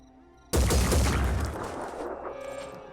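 Grenade launcher fire in the video game Blood and Titanium: a single sudden heavy blast after a quiet lead-in, with a booming explosion that rumbles and fades over a couple of seconds.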